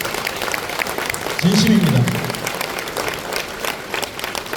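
An audience of business distributors at a Korean seminar claps under a man's loud speech, a broad rustling applause that runs throughout while he keeps talking.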